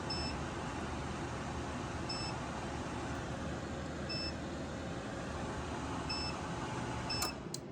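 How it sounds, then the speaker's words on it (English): A portable power station sounds short high electronic overload beeps at roughly two-second intervals, steady and clear above a loud continuous hum from the connected load. "So you can see it's beeping."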